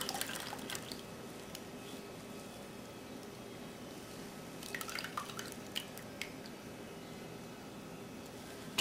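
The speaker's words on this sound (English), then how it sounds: "So turn the top one way and use the tong to turn the other way to squeeze out as much liquid as possible." Soy milk mixture squeezed through a filter cloth, liquid dripping steadily into a container below, soft and fairly quiet with a few brighter splashes and drips in the middle of the stretch.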